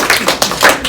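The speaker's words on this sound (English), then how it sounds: "can we just have a round of applause for Jack?" After a speech about speedcubing, an audience gives a brief round of applause: a few close, sharp claps in quick succession, lasting under a second.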